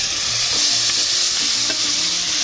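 Jiol (shingi) fish stirred into a hot pan for a village-style fish curry, giving a steady, close hiss of frying with soft scraping strokes layered over it throughout, with no talking.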